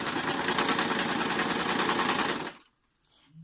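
An Usha sewing machine stitches a buttonhole in a loud, close, rapid mechanical chatter that runs steadily for a couple of seconds, then stops abruptly, leaving near-silence and a faint click.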